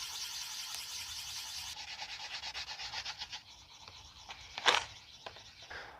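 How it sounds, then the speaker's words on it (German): Quiet, steady rubbing of 5000-grit wet sandpaper on a car headlight lens during restoration, a soft continuous scratching with small strokes and one brief louder scrape near the end. "wenn ich das mit der 5000er Körnung schleife"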